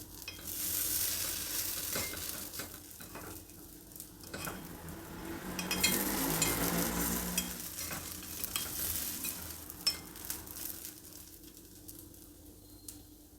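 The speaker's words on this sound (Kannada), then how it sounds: "ಕಡಿಮೆ ಫ್ಲೇಮಲ್ಲಿಟ್ಟು ಬೇಯಿಸಬೇಕು, ನಿಧಾನಕ್ಕೆ ಬೇಯಬೇಕು ಪಡ್ಡುಗಳು" Davangere benne paddu cooking on low flame in a lidded paddu pan, a soft steady sizzle with scraping and stirring clinks of utensils, no talking.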